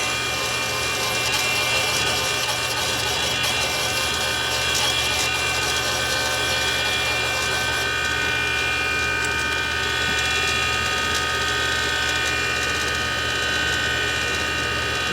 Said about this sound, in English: I'm going to go ahead and grind it some more